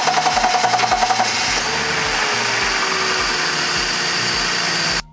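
A BMW E46 330i engine, just after injector cleaning, cranks with a rapid rhythmic starter chug, then catches and runs at a steady loud idle until it cuts off abruptly at the end.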